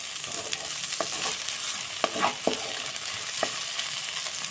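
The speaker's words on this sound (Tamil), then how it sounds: "2 நிமிஷத்துக்கு ஒரு தடவை இதை எடுத்து இந்த மாதிரி கிண்டி விட்டுக்கோங்க." Okra (lady's finger) stir-fried in a pan for a soft South Indian poriyal, a steady sizzle broken by several scraping stirs of the spatula, close and moderately loud with no talking.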